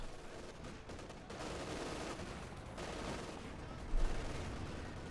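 Machine gun fire in the Company of Heroes 2 strategy game: continuous rattling bursts and battle noise fill the whole stretch, with a slightly louder burst near the end.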